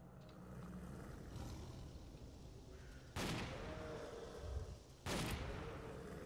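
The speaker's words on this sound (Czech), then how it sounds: "Tom vydrží dvě rány brokovnicí zblízka" Shotgun blasts in S.T.A.L.K.E.R.: Call of Pripyat, two loud sharp booms a couple of seconds apart over a low ambient rumble, with no talking.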